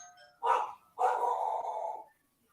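A dog barks twice, a short bark then a longer drawn-out one, close and clear with quiet between.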